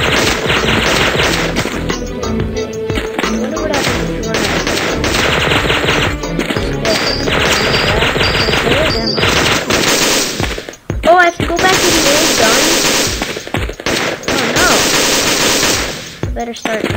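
Continuous bursts of rapid gunfire from the side-scrolling shooter Gun Mayhem, loud and dense across the whole stretch, with crashes and impacts mixed in and a few brief gaps between volleys.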